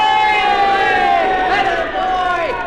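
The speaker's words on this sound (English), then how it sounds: "What's all the cheering about?" A crowd cheers and shouts together at a field on a children's space-themed record, a dense roar of voices with swelling, wavering pitch lasting a few seconds.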